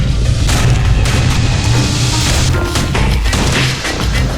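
Guns on a security skiff blast away in the game Bastion, a loud, continuous barrage of booming shots and crashes layered over a dense low rumble with no pauses.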